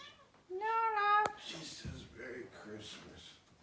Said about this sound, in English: She's a little Christmas cat.